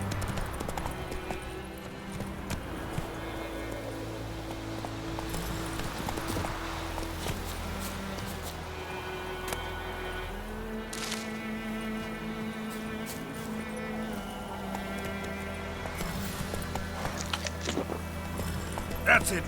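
Hooves of the horse Roach clip-clopping in a steady rhythm in The Witcher 3, running continuously under spoken game dialogue and ambient background sound.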